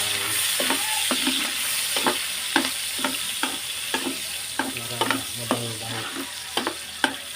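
Garlic sautés in a hot pan with a steady close sizzle, punctuated by regular scraping stir strokes roughly every half second.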